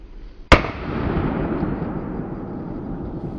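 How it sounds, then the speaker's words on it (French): A single sharp rifle shot cracks out during a driven wild boar hunt in woodland, followed by a long rolling echo that fades slowly, with no talking. "je lâche une balle à une vingtaine de mètres qui me permet de prélever une bête rousse"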